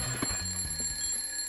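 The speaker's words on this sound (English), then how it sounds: "Oh, there goes the alarm." An alarm rings in a video game, a steady electronic beeping tone that sounds clearly and continuously throughout.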